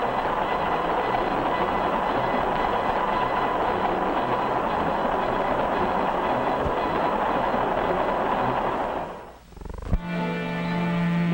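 A passenger train rumbles steadily along the rails, loud and close, then the noise dips sharply near the end and gives way to a tonal hum.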